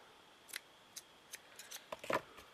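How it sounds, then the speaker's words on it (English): Scissors snip through the end of a piece of fabric for a shabby chic flower, giving a handful of quiet, crisp cuts spaced irregularly with a small cluster near the end, close and otherwise silent. "So let me just cut that end off."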